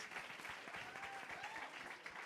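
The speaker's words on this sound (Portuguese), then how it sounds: "Salva de palmas para o professor Marcos" Applause for a professor during a science podcast recorded before a live arena audience, a dense steady wash of clapping that runs the whole time at even loudness with no voices over it.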